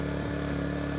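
A Champion 4000 watt dual fuel generator engine runs loud and close, with a steady buzzing drone and a slight rise in pitch as it revs up.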